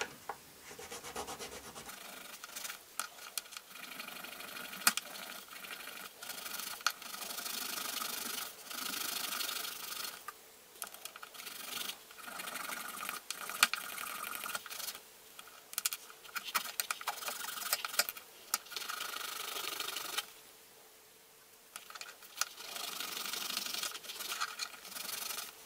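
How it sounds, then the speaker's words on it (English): Milliput epoxy putty is filed down by hand while repairing the range finder of a vintage 12-inch Boba Fett figure. Close, scratchy rasping strokes repeat in irregular bursts, with short pauses between them. "carefully filing down parts of the milliput until I've got a shape that I'm happy with"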